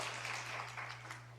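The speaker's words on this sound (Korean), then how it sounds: "한번 격려의 박수를 한번 해주시고" Church congregation at a Sunday afternoon worship service applauds the accompanist, a short burst of soft, diffuse clapping over a steady low electrical hum.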